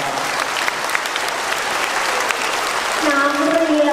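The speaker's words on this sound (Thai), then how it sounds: "ขอเสียงปรบมือด้วยครับ" A crowd of students and staff claps steadily at a school Loy Krathong opening ceremony, dense applause filling the space from start to finish, swelling slightly near the end.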